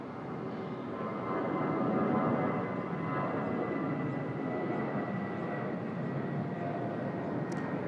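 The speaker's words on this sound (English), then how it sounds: "Jetstar off to Townsville." A Jetstar airliner departs Sydney Airport bound for Townsville, a steady broadband jet roar that holds at moderate loudness for several seconds, heard from a distance without talk over it.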